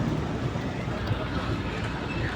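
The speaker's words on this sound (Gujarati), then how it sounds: "મિત્રો તમે જોઈ શકો છો અમારી બોટ જાય છે" A boat's low rumble moves across the sea off Mangrol port, blended with wind buffeting and splashing in a steady, noisy wash.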